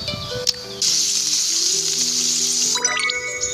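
Food sizzling on a cooking station in the Roblox game Cook a Recipe, a steady bright hiss that kicks in after a short click and runs loud for about two seconds, over light game chimes and tones.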